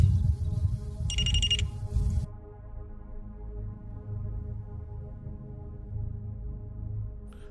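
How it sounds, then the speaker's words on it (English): REM pod ghost-hunting device at Rose Hill Cemetery, Black Diamond Mines, going off with a short burst of shrill electronic beeping over low background rumble, then quieter steady hum, with no talk. "Now that noise is called a REM pod."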